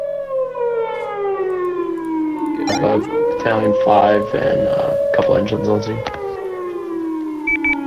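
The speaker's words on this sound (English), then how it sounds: "Sorry about the sirens. It's pretty loud." A fire rescue vehicle's siren wails loudly with a falling pitch sweep while someone speaks over it, the tone fluctuating and continuing throughout.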